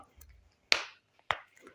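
Two sharp plastic clicks from a used doll's stiff joints, a moment apart, close and crisp, with faint handling rustle between them in an otherwise quiet room.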